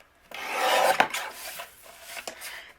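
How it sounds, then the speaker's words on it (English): A paper trimmer slices through a card panel for a handmade baby card, a dry raspy scraping swipe of about two seconds, close and moderately loud, with a smaller rasp near the end. "I'm going to trim this panel down to 4 1/4."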